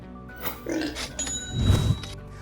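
Pigs on a farm grunting, a couple of low rough grunts rising toward the end with some faint background noise, no talking.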